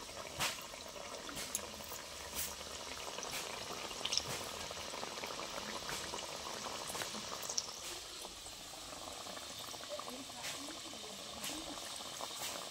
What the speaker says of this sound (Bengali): তেল গরম হয়ে গেছে। এবার বানিয়ে রাখা খাজাগুলো দিয়ে দেবো।